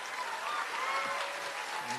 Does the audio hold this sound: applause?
yes